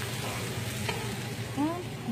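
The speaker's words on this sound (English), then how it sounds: "We're going to saute this entire lovely mirepoix vegetables together." Carrots, bell pepper and celery sautéing together in a pan for cabbage soup, a steady close sizzle with a few stirring scrapes, no voices.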